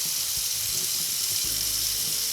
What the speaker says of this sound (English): fill in probably this whole sink with cold water